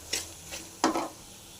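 Ground onion paste fries in a pan for a small onion pickle, with two brief bursts of scraping stirring and sizzle close by, each lasting a fraction of a second, and a quiet gap between them.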